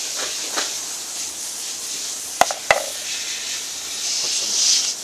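A steady, bright hiss of a camping gas stove burner runs throughout, with two sharp clicks in the middle and the hiss swelling slightly at the end.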